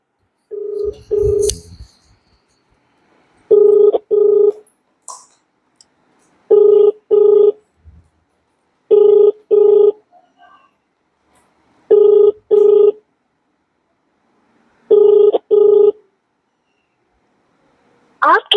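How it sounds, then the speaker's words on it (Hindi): Ringback tone of an outgoing phone call: paired double rings repeating steadily every few seconds, clear and loud, with silence between and no talk. "संभवतः फोन लग गया है।"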